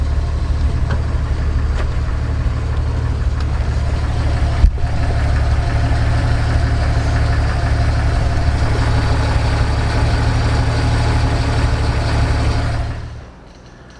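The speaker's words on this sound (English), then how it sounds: "that is shifting the Atlas 4-speed transfer case" Idling engine of a vehicle fitted with an Atlas 4-speed transfer case, a steady low rumbling drone with a single sharp clunk partway through as the case shifts, continuing evenly before fading out at the end.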